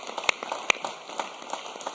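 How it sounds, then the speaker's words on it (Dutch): Audience applause at an online cycling gala talk show, a brief round of light, scattered claps from a small group, with a couple of sharper nearby claps, no talking. "Geef nog een keer een applaus hier."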